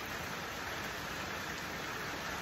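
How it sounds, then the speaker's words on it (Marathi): Rain falls on a small farm in a soft, steady hiss, a faint even wash of drops with no voices and no change in intensity. "आत्ता पाऊस कमी झालाय, तसा खूप पाऊस आहे"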